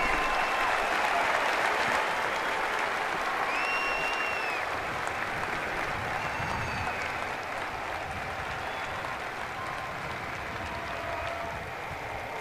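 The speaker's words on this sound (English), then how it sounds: "Let's hear a round of applause for these great Americans" Sustained distant crowd applause at the 2021 Indianapolis 500 pre-race ceremony, a steady wash of clapping and cheering from a large stadium audience with faint whistles.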